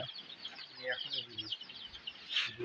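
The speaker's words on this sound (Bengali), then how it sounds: "আমরা আবার চলে আসছি আমাদের মুরগির ফার্মে" Chickens cluck and chirp faintly in a poultry farm shed, scattered high calls over low background noise, with a brief voice speaking softly.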